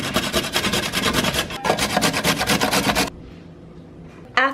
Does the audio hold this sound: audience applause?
no